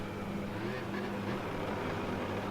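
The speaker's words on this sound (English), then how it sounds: "A funny noise coming from the engine there" An F1 car engine in the video game F1 2018 hums on the starting grid with an odd tone, a steady low drone that stays even throughout, with no talking.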